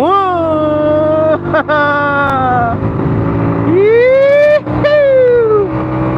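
A Honda Grand motorcycle engine pulling hard in fourth gear, its loud, close whine rising in pitch as it accelerates, drops briefly at gear changes, and climbs again.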